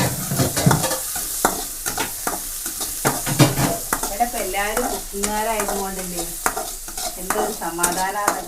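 A spoon stirs food in a frying pan at home, producing repeated close scrapes and clatters over a light sizzle, joined by tonal squeaks from the utensil on the metal pan.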